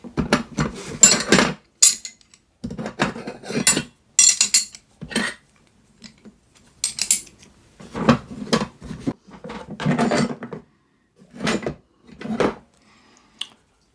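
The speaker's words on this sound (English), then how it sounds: "I'm going to show you a variation of what are called wrenches." Metal wrenches, including a small kit wrench and an open-end wrench, are picked up and set down in a toolbox, making close, crisp clinks and clanks in short, separate bursts with quiet gaps between them.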